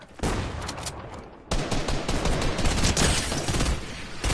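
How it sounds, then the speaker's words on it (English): Sustained heavy gunfire in a shooter video game, a loud dense fusillade that breaks off briefly and then resumes even stronger. "where the hell is this shooting?"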